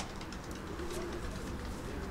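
Pigeons in a large pigeon loft coo softly, with low repeated warbling calls over a steady background murmur, close and continuous.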